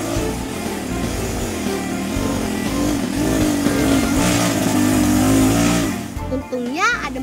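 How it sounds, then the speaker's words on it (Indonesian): A motorcycle taxi engine drones steadily under a narrator's voice on a rural trip to distant gardens, rising in pitch near the end. "Untungnya ada motor ojek yang bisa kami tumpangi."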